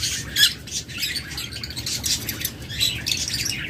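Pet lovebirds or budgerigars squawking in a cage, a busy overlapping chatter of shrill squawks and chirps repeating close by, with no voices.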